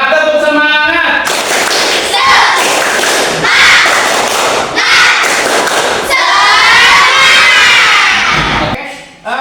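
Children in a classroom do a loud rhythmic spirit clap, with bursts of claps and thumps mixed with shouted chanting from the group, ending abruptly.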